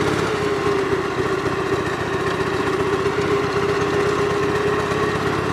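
A Gravely 8163-T garden tractor engine runs steadily nearby, a loud droning mechanical hum with an even pulsing rhythm throughout and no talking.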